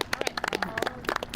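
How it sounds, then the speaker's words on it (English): An audience applauds outdoors at a garden visit, with a brief burst of many hands clapping in quick, uneven claps at close range. "Ladies and gentlemen, clap it up for Miss Frida."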